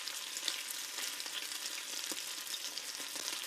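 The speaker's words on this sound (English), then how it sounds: "if that sizzling sound made your mouth water" Food frying in a hot pan gives off a steady sizzle thick with fine crackles and small pops, close up and heard alone.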